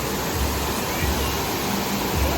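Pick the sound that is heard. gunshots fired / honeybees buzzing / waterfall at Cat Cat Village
waterfall at Cat Cat Village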